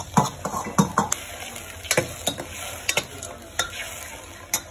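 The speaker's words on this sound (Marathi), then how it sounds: "मसाला छानपैकी भाजून घ्यायचा आहे आपल्याला" Masala and gram flour roasting in a pan, stirred with a spoon: a steady close sizzle under repeated sharp scrapes and clinks against the metal, about a dozen uneven strokes with no talk.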